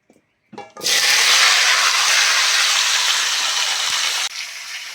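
Elephant foot yam pieces, cut and washed, drop into hot oil and fry with a loud, steady sizzle that holds for about three and a half seconds, then drops abruptly to a quieter hiss.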